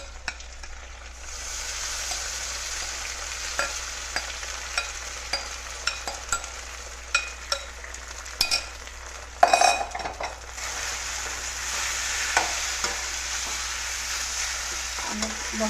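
A sago and peanut mixture sizzles steadily in a pan over a lowered gas flame, with a spoon repeatedly scraping and clinking against the pan while stirring.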